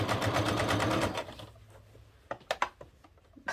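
Sewing machine stitching fabric for a reversible bucket hat, a loud steady mechanical whir for about a second and a half, then stopping, followed by a few faint handling clicks and taps.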